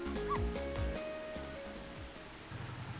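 Dog barks in the Ghost Trick game: a few short, close yips and barks in the first second, followed by quieter electronic tones and a soft background hum.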